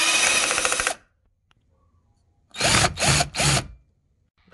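A power tool with a 7mm socket whirs on screws of a Chevy Malibu dash panel, one longer close burst followed after a pause by three short quick bursts.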